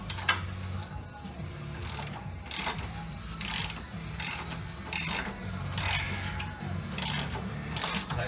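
A ratchet with an extension tightens the rear air shock bolt on a 2002 Chevrolet Suburban, giving repeated bursts of close, steady clicking strokes with short pauses between them.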